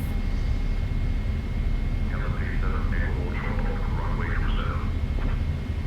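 Boeing 777 jet engines roaring steadily through a rolling takeoff, a dense constant rumble with a thin high tone, while a faint voice chatters briefly in the middle.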